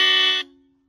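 A single loud, shrill electronic horn blast from a modified 2024 Hero Splendor motorcycle sounds up close, cutting off abruptly and leaving a brief fading tone.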